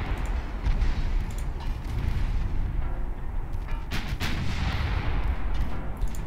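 Naval guns fire in a battle in Ultimate Admiral Dreadnoughts with Japanese heavy ships, and a torpedo blows up: dense, rumbling booms and overlapping blasts roll on continuously and loudly, with no voices.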